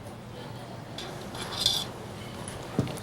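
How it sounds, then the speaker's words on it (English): Marinade ingredients with palm oil being mixed in a bowl, with soft scraping and light clinks of a utensil against the dish, close and fairly quiet. "Let's mix all the ingredients for the marinade first."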